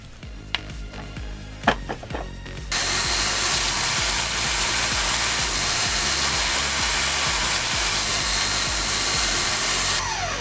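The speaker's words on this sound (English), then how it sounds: "I find either use a belt sander or a file and just put a small bevel around the top thread" A belt sander grinds a small bevel onto the top thread of a bolt in a workshop: a few sharp taps and knocks, then a steady, loud abrasive roar that holds for several seconds before cutting off.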